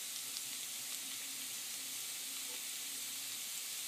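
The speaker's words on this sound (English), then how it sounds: "take your butter and melt it in a skillet over medium heat and add your minced garlic" Butter and minced garlic sizzling in a skillet over medium heat, a steady soft frying hiss that holds evenly throughout without pauses.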